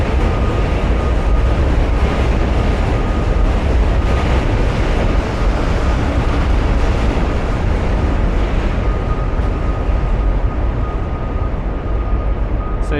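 Subway trains rolling across the Manhattan Bridge in New York, a loud, continuous rumble and rattle of rail cars with a steady wash of noise filling the whole stretch.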